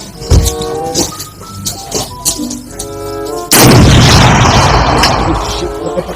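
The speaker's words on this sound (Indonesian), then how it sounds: "Wih, ada tembak-tembakan M16." A toy M16 gun fires its electronic shooting effects: a rapid series of tinny bursts and pops, then a sustained loud crackling blast, played close and loud.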